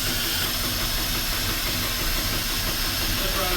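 The engine of a 1978 Cadillac DeVille, started after sitting for over fifteen years, runs rough and loud in a steady, hissing rumble that continues without a break.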